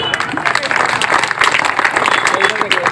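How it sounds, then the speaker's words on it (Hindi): Applause from an audience welcoming guests at a Good Governance Day ceremony marking Atal Bihari Vajpayee's birth centenary; dense, steady clapping fills the whole stretch at close range, with voices mixed in. "ताली बजाकर उनका स्वागत और अभिनंदन करें।"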